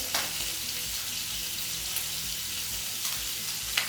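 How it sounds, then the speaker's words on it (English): Pork chops fry in a hot pan with a steady, close sizzle that stays even and dense throughout, broken by a couple of faint clicks. "the pork chops will start cooking away"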